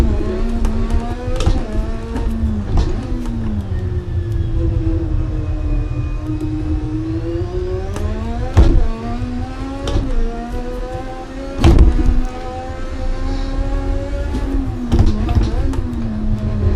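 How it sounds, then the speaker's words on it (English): A 1200-horsepower race car drifts around Imola in Assetto Corsa, its loud engine holding a steady high-revving drone that rises and falls in pitch, broken by several sharp bursts near the end. "Just drifting my way around Imola with 1200 horsepower."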